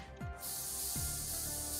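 Oxygen refilling with a steady broadband hiss in the space colony game Astro Colony, a sustained airy rush after a brief start, alone with no talk.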